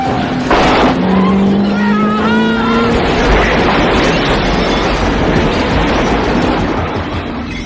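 A car drives through a 1988 horror movie scene: a loud, steady engine and road rumble continues throughout, with a brief swooping tone near the start.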